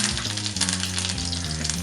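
Curry leaves and dried red chillies crackle and spit in hot oil for a prawn pepper fry, a loud, dense sizzle with rapid popping throughout, no voices.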